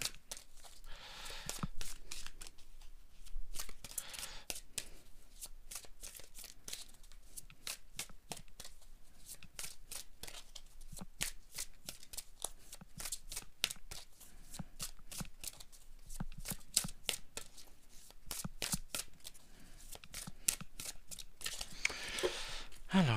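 Tarot cards are shuffled for a five-card draw in a long series of quick, crisp riffling bursts and taps at close range, with pauses in between. A voice talks softly under the shuffling.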